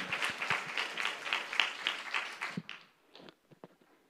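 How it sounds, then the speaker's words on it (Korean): A church congregation at a Sunday worship service gives a warm round of applause to welcome a speaker, steady clapping that thins out into a few scattered claps before fading. "우리 나오실 때 큰 박수로 맞이해 주시기 바랍니다."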